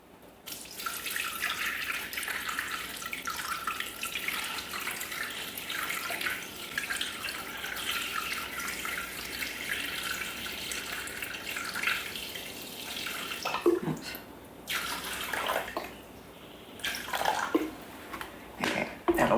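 Steady stream of water pours into a Thermomix bowl while roughly 700 grams is measured, a continuous close hiss and splash running unbroken before breaking into a few irregular spurts and drips near the end.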